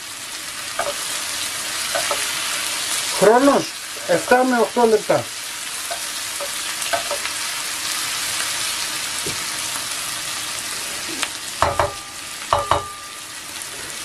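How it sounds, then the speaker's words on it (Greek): Vegetables sauté in a hot pan, wilting as their moisture cooks off, with a steady sizzle and frying hiss throughout and occasional stirring clatter; a person speaks briefly over it. "συνεχίζουμε το σοτάρισμα μέχρι να δούμε ότι έχουν μαραθεί καλά"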